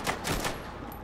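Gunfire in GTA 5 roleplay: three quick shots cracking in succession, fairly faint and distant, then quieter background.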